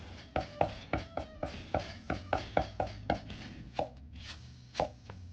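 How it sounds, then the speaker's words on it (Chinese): Knife chopping crushed garlic and ginger on a cutting board, a fast run of about fifteen sharp, close thuds with a brief pause near the end. "再剁碎。"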